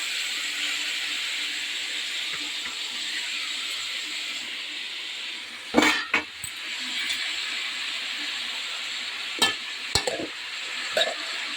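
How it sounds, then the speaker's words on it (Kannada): Cabbage palya frying in a pan under a constant soft hiss, with a few sharp scraping stirs partway through, close and fairly quiet. "ಇವಾಗ ಎಲ್ಲ ಹಾಕಿ ಚೆನ್ನಾಗಿ ಮಿಕ್ಸ್ ಮಾಡಿ"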